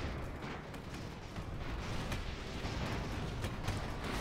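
Airship cannons firing in the Airships: Conquer the Skies video game, a dense, continuous barrage of booming shots and bursts layered over one another, loud and sustained with sharper reports scattered throughout.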